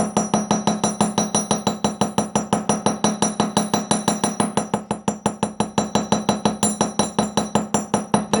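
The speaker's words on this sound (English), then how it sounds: "I'm putting the loop on the edge of the steel block and hammering away" Small faced hammer striking a wire clasp loop on the edge of a steel block: a rapid, steady train of sharp metallic taps, close and loud, continuing without pause.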